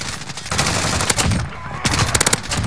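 Machine gun fire in the PC game Modern Warfare: loud, close bursts of rapid automatic shots, with clusters of sharp cracks around the start, middle and end.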